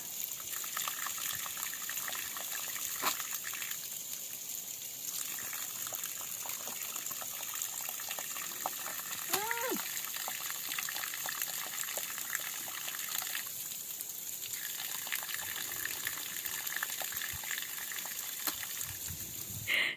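Cold spring water flows steadily at a mountain spring near a hillside temple in Uttarakhand, a continuous close splashing rush with a brief faint call in the middle and no talk.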